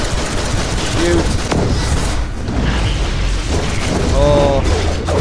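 Shooting in the DC Universe Online tutorial: dense bursts of game gunfire and impact booms packed together with mechanical effects, steady and loud throughout, with no talking.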